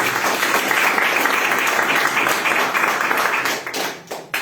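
A church congregation claps during a sermon, a sustained, full round of applause that carries for several seconds before thinning out and tapering near the end.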